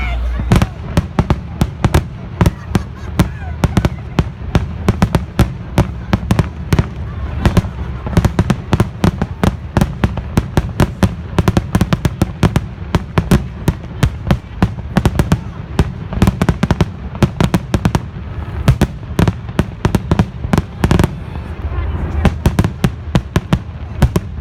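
Fourth of July fireworks pop and boom in a dense, nonstop barrage, loud and close, with bursts overlapping throughout as people talk now and then in the crowd.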